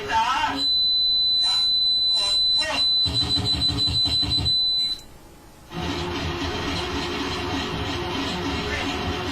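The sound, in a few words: analog synthesizer noise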